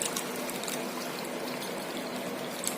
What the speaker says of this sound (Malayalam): 1 കപ്പ് വെള്ളം ഒഴിച്ചിട്ടുണ്ട്.